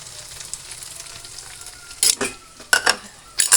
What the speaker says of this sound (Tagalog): Ngayon po, nagsabol ako ng itlog. Ilalagay ko po dito sa kawali.